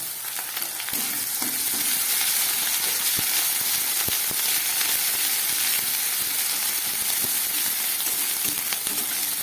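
Ginger garlic paste sizzles loudly and steadily in a frying pan over a medium gas flame, a dense continuous hiss with occasional crackles and clicks.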